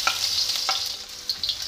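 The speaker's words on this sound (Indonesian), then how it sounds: "Panaskan minyak yang agak lebih sedikit ya teman-teman, lalu goreng bawang merah" Shallots fry in a shallow layer of hot oil with a steady bright sizzle, broken by a few sharper spits and stirring scrapes close by, with no talking.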